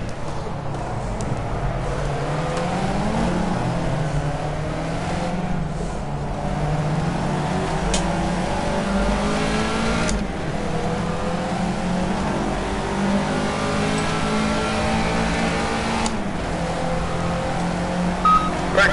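A Caterham Seven race car engine in the video game Project CARS on the Monaco circuit, a loud continuous drone with rising and falling pitch as it revs through gears, heard alone.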